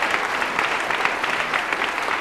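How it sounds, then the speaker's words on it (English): Congregation clapping hands together at a church service, a dense, lively burst of many hands with an even, continuous texture and no voices over it. "Clap your hands."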